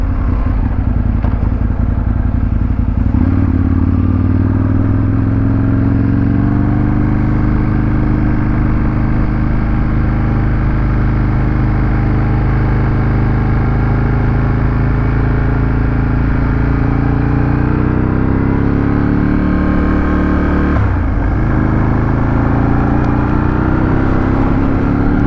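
An Aprilia RSVR Factory sports motorcycle being ridden, its engine droning loudly and steadily with rising and falling tones as it changes speed, and one brief dip near the end, heard with wind noise and no talk.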